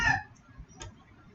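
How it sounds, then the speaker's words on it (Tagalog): A short burst of chicken clucking up front, followed by a second brief cluck, over a low rumbling background. "Quiet mo mga manok."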